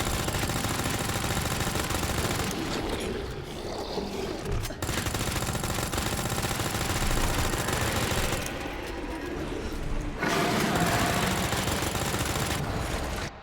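Rapid, sustained automatic gunfire empties a full magazine into a boss in Resident Evil 2, a dense continuous barrage with brief dips in the middle and no talking.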